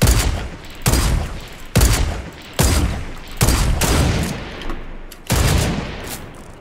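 Sniper rifle gunshots in a video game shootout: seven loud, booming shots in a fairly steady rhythm, each with a long decaying echo, and no talk over them.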